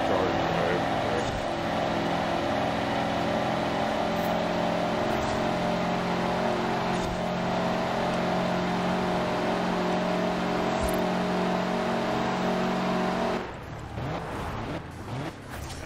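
Steady engine drone with sustained humming tones from cars cruising continuously in Forza Horizon 4, ending in a brief rougher shift near the close.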